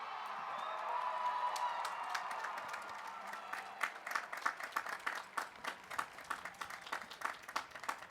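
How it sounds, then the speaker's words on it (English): A standing graduating class at Radford University's spring commencement applauds their families. The clapping grows from a soft murmur into distinct, rhythmic bursts of many hands in a large hall, with a few scattered whoops. "I'd like to invite the class to stand and try to recognize your families with your applause"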